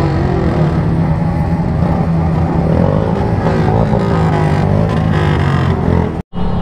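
A group of Bajaj Dominar 400 motorcycles riding together on a Republic Day ride, their engines producing a steady, loud, dense drone with overlapping exhaust notes and wind rush.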